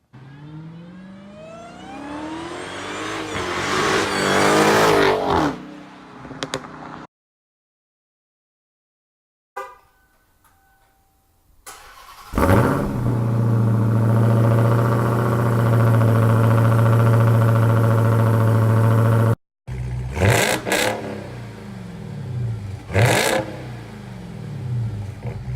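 A Dodge Charger Hellcat, a heavy car of over 4,000 pounds, roars loudly as its engine revs and pulls hard in a long sustained acceleration, broken by a short cut, then more sharp revs and pass-by surges.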